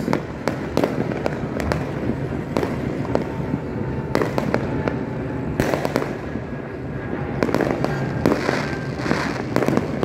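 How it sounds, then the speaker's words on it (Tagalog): New Year fireworks burst and crackle continuously, with repeated sharp bangs over a dense rumbling background, loud and sustained throughout. "Malilito ka po kung saan mo itutok yung camera mo dahil sa gaganda ng fireworks"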